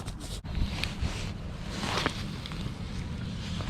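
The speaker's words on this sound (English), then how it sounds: "The wind's picked up a little bit too." Wind blowing across open water while fishing from a boat, a steady low rushing buffet against the microphone with faint splashes and small knocks.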